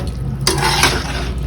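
Beef stock poured into a pan of mint beef masala, giving a short, close splash and sizzle of about half a second over a low background hum.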